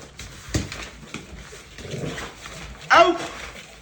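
A Cane Corso guard dog whimpers and yips in short bursts during bite-and-release training, with a sharper vocal cry near the end, under a handler giving spoken commands.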